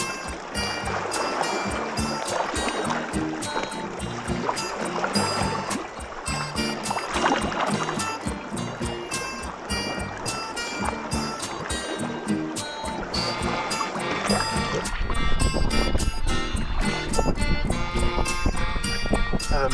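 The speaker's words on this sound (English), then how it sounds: "I've been paddling all morning" Kayak paddling along the Lake Superior shore, with steady splashing water and rhythmic strokes close by, loud and continuous, growing fuller toward the end.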